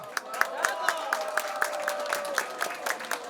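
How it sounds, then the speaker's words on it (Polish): An audience at a seniors' event applauds the second-place club, Rondo, with a burst of rhythmic clapping that stays steady and close. A faint tonal background runs underneath. "Wielkie brawa."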